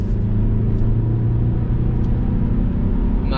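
A Saab 9-5 car accelerates gently onto a highway. A constant loud cabin rumble of engine and road noise builds evenly, heard from inside the car.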